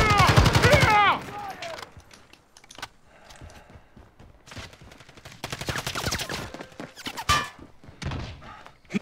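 Gunfire in the video game Call of Duty Modern Warfare: a dense burst of loud shots opens, then scattered sharper pops and thuds recur over the next several seconds amid game effects and some voices.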